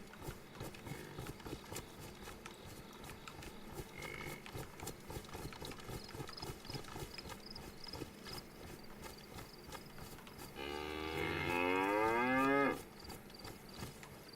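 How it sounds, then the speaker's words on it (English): A cow in DayZ lets out a long, loud moo near the end, preceded by ambient game sounds and faint hoof clops. "Hello, Mr. Cow."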